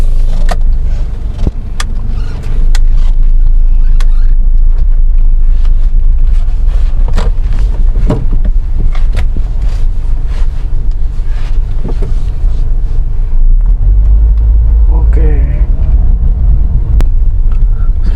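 A rear-wheel-drive Suzuki Grand Vitara with automatic transmission is driven in D, giving a loud, steady engine and road drone with wind buffeting at the microphone and a heavier low rumble near the end, with no talk.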